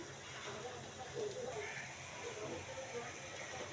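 Round carrot slices frying in hot oil, a soft continuous hiss and gentle crackle at low volume, with a voice speaking quietly over it.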